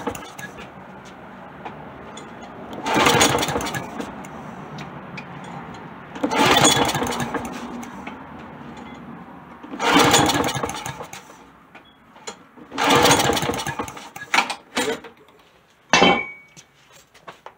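A free lawn mower with a dirty carburetor starts in several short bursts, running briefly and dying each time, with clinking of tools between tries and someone talking.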